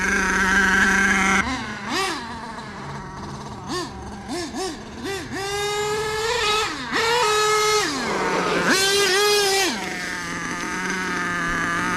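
An HPI Savage 4.6 nitro RC truck with a two-speed transmission revs hard in bursts, its high buzzing engine note climbing, dropping and climbing again as it shifts gears, loud and close, with short pauses between pulls.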